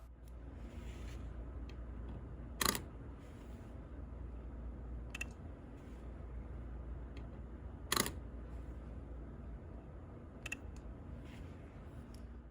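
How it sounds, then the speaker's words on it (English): A Leica Q2 camera's quiet shutter release clicks a handful of times at irregular intervals, short crisp ticks over a steady low background hum. "For the Q2, they made the shutter release sound quieter"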